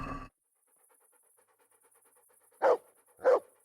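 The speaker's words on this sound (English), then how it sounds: "Mutt is like barking outside the door" A dog barks twice in Kingdom Come: Deliverance, two short, fairly loud yelps from just outside a door, preceded by a brief burst of sound and a quiet lull.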